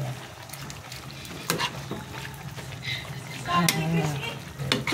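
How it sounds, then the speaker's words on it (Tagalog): Soup simmering in a pot on a home stove, a soft steady bubbling and light sizzle with occasional clinks of a utensil against the pot, fairly close. "Hayaan na natin siyang kumulo dyan."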